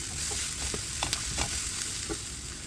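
Spice masala fries and sizzles in a pan for an egg masala, with a steady hiss and scattered scraping stirs from a spoon, close and moderately loud.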